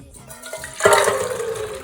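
Soaked beans tipped with their water into a cooking pot for borscht, a sudden splashing pour that starts near the one-second mark and keeps gurgling and sloshing to the end, close and fairly loud.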